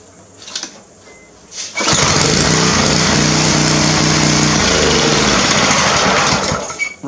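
A Cub Cadet lawn mower engine catches after a few brief attempts and settles into a loud, steady, close-up running drone that holds to the end.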